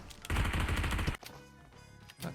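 A loud close burst of rapid gunfire in PUBG Mobile hide-and-seek mode, lasting under a second, then quieter game ambience and a faint later shot.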